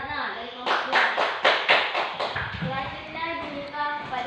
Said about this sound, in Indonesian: tepuk tangan untuk Ratna dari kelompok 2.